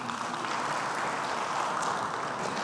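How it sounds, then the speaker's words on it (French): Applause from an audience at the opening ceremony of a technology event's 10th anniversary, a dense, even wash of clapping, soft and somewhat distant, continuing steadily throughout. "On peut applaudir, bien évidemment"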